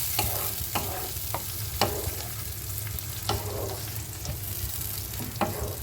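Ginger, onion, garlic and tomato paste fry with onions in a pan, a steady sizzle broken by repeated scraping stirs of the spoon, close and moderately loud with no talking.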